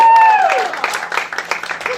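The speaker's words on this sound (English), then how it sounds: "Round of applause if you're single." A comedy club audience applauds and cheers together, a dense wash of clapping that is loud at first and fades slightly over two seconds, with some voices mixed in.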